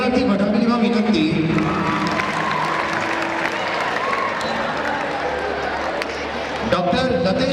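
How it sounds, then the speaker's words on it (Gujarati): Audience applause at a school annual function, a dense steady wash of clapping and crowd noise that holds for several seconds, briefly thinning before swelling again near the end. "સૌને તાળીઓના ગણગણાટથી વધાવી લેવા વિનંતી."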